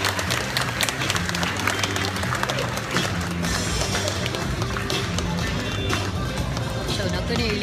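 Children clap and cheer loudly in a dense, noisy crowd, with shouting voices and movement mixed through the steady applause.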